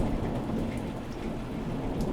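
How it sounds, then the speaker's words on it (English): Steady rain hiss with a deep, continuous thunder rumble underneath, loud and unbroken from start to finish, as an animated weather effect in a stream where the sky darkens and the sun goes out. "The rain can come, the sun goes out."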